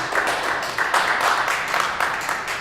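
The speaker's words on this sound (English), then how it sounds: "that applause you hear is my crew" A film crew applauds in a studio with steady, fairly loud clapping from a small group of people. The sound rises and falls in quick waves throughout and is heard without any talking.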